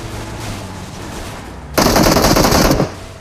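Automatic weapon fire in the PUBG Mobile shooter game, a sudden loud sustained burst of rapid shots lasting about a second after a quieter stretch of engine-like rumble.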